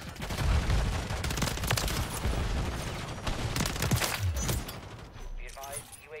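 Gunfire in a Modern Warfare 3 online match crackles in rapid, close bursts of automatic shots, ending with a brief game sound effect.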